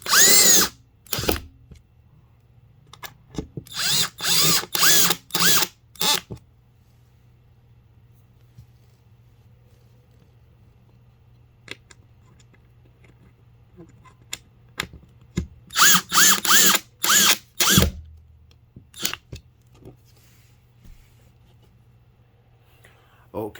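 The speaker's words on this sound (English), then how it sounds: "I'm gonna go ahead and use the drill." Power drill driving pre-started screws into mounting brackets for a PlayStation 5, in several loud bursts of whirring, separated by quiet stretches with faint handling sounds and brief talk.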